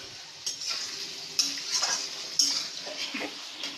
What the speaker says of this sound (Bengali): আলু দিয়ে দিলাম, আলু ভেজে নিব